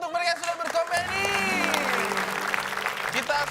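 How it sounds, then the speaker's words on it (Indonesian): A comedy show crowd claps and cheers in steady applause that rises after a moment and carries on, with a voice and music-like tones audible over it. "Tepuk tangan dulu untuk mereka yang sudah berkomedi"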